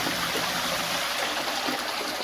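Water runs steadily through a gold sluice, with a bucket collecting the concentrates at the outflow: a continuous, dense rushing and trickling wash at close range with no pauses.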